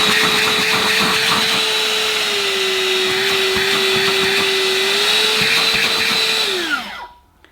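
A Gtech Prolite handheld vacuum cleaner runs close up with a loud, steady whine and airy rush for about seven seconds, then winds down as it is switched off.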